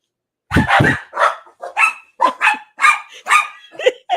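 Dogs bark indoors, a run of sharp, loud, close yaps and bow-wows in quick, irregular bursts separated by short silences, with no talk over them.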